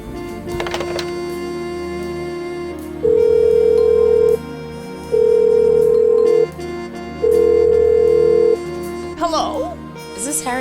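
A telephone rings three times in The Blackwell Unbound, each long electronic tone evenly spaced, loud and close, followed by a brief clatter as the receiver is picked up.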